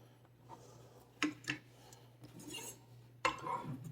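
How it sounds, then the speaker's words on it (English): Back edge of a knife scraping chopped onion off a cutting board, a few short, light scrapes and taps, close and fairly quiet, with a low steady hum underneath. "I'm using the back edge of the knife to pick these up"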